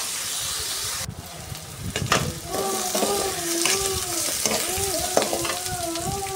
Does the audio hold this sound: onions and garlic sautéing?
yes